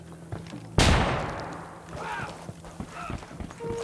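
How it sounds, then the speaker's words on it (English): A flashbang thrown in the video game Ghost Recon Wildlands bursts with a sudden sharp bang followed by a fading, hissing ring, with faint game sounds after it. "Throwing a flashbang."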